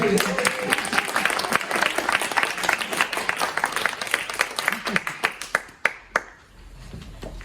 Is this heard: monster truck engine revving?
no